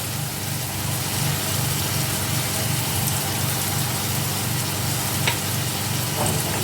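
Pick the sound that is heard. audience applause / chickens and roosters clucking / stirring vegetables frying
stirring vegetables frying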